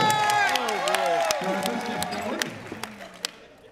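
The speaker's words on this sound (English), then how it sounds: "round of applause for Arthur!" Children's crowd at a Mother's Day luau cheering and clapping for a boy named Arthur, excited shouts and voices over scattered applause that fades toward the end.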